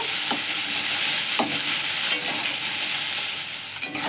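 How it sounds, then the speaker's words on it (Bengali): Ginger-garlic paste fries loudly in oil in a pan, a dense, continuous sizzle broken by regular scraping strokes of a spoon stirring it. "আদা রসুনটা দিয়ে ভালো করে ভেজে নেব"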